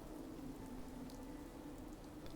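Steady, faint rainfall hisses evenly throughout, as the weather ambience in the video game Fallout 4, with no other sounds standing out.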